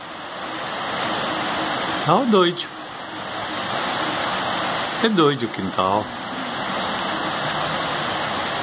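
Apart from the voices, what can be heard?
heavy rain falling outside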